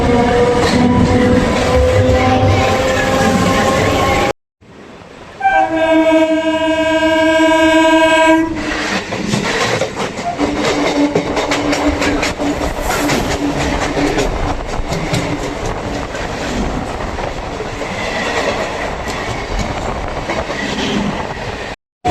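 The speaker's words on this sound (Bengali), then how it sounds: "এবার আমাদের ট্রেন সেই ঐতিহাসিক স্টেশন ক্রসিং করবে" A Sealdah–Diamond Harbour local train roars through a station at speed, with a long, loud horn blast partway through and a continuous rushing, clattering rumble of wheels on rails.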